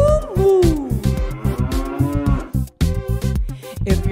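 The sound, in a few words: cow mooing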